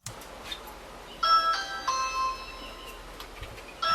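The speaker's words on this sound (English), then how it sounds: "And we're ringing a doorbell." A doorbell chimes at a front door, bright tones ringing out twice in the middle and sounding again near the end over a quiet outdoor background.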